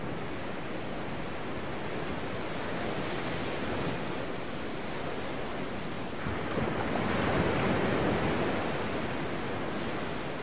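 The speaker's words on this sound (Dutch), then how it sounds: "Tja, de zee." Sea surf rolls in a continuous broad wash of breaking waves, steady and fairly loud with a swell near the end, alone with no voices.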